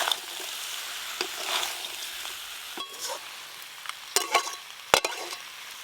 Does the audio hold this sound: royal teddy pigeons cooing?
no